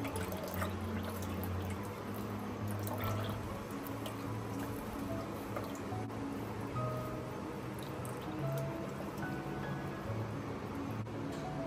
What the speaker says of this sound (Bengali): ছানা বেরিয়ে গেছে দুধ থেকে, জল দিয়ে ভালো করে ধুয়ে নেবো যাতে করে ভিনিগারের টেস্টটা চলে যায়।